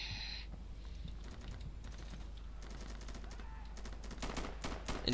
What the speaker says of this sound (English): I'm playing as a machine gunner in the insurgent forces.